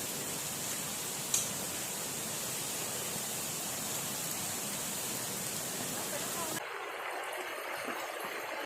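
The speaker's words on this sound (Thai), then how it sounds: "เสียงน้ำตกค่ะทุกคนค่ะ" A waterfall gives a steady, full rushing roar of water with a brief sharp click early on, then turns noticeably quieter and thinner near the end.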